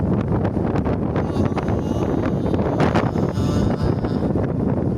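Wind buffets an outdoor microphone in a steady, loud roaring rumble with gusty flutters throughout, and no voices are heard.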